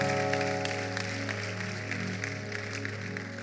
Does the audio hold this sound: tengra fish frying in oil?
no